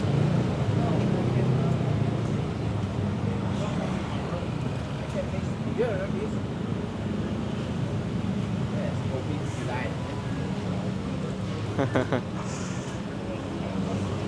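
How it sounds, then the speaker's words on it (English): Steady low rumble of road traffic from a busy main road in Ubud, Bali, with vehicles passing continuously and people talking nearby. "maybe it's a bit noisy here because it's just beside of the big road"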